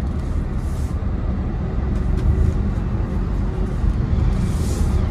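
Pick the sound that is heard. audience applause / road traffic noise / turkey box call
road traffic noise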